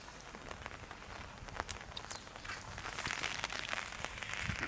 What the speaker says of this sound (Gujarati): જો અત્યારે વરસાદ હતો એટલે કેમેરા ઉપર પણ પાણી આવી જાય એટલે છત્રી રાખવી પડશે.